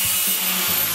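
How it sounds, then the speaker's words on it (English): A saw cuts down a toilet roll holder to length, giving short rasping strokes in a close, brief burst. "we're going to get our toilet roll holder and cut it down to 20 centimetres."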